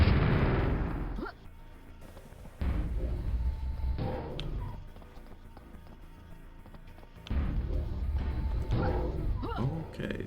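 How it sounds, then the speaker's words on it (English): Gunfire and mine explosions in the video game Quake, with three heavy booming bursts separated by quieter stretches of game ambience. "You can also blow up these mines, you just have to shoot into the holes."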